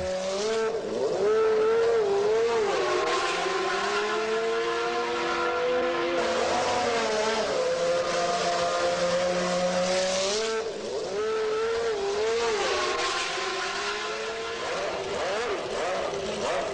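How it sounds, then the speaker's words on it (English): A pair of 1993 Williams Formula 1 cars head out on track during testing at Estoril. The high-pitched engines scream steadily and loudly, with the note rising and falling through gear changes and no talk. "No sooner have the 2 cars gone out for the first time than they are back."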